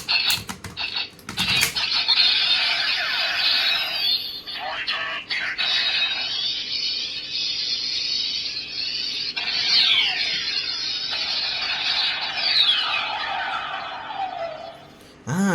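A DX Kabuto Zecter toy belt's tinny speaker plays a long extended Rider Kick effect sequence with sweeping tones, crackles and buzzing, sustained for many seconds before a short pause and final burst.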